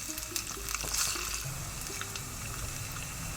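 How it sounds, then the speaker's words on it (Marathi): Mustard seeds and garlic cloves fry in hot oil for a Mangalorean dish. A steady close sizzle carries light popping and crackling throughout, with faint clinks in the background. "आतां सासांव फुटून येताना ताका एक 5 बोयो लसणीच्यो दाडोवन घालच्यो."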